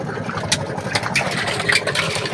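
A small boat motor chugs steadily at moderate volume near an island shore, with brief clatters and splashy noises over the engine drone.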